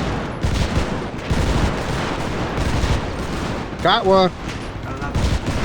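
Video game gunfire in a boat raid, a dense rattle of shots and bursts running through the whole stretch, with players talking over it.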